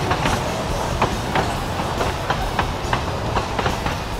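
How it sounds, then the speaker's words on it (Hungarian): A small train passes close by with a loud, steady clickety-clack of its wheels on the rails, the rhythmic beats repeating evenly throughout. "A kis vonat!"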